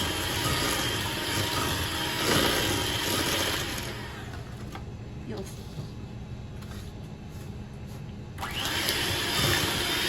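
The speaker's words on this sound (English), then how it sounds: "This takes a couple of minutes, especially with this hand mixer." Electric hand mixer creaming butter and sugar in a bowl, a steady whirring motor that runs loudly, eases off in the middle, then picks back up near the end under a talking voice.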